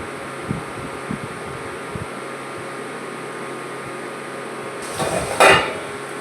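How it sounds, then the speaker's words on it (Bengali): A metal lid is set down on a pot of flattened-rice pulao with potato and nuts cooking on the stove: a short clatter and clank near the end, preceded by faint soft taps over a steady background hum. "ঢাকা দিয়ে দিলাম।"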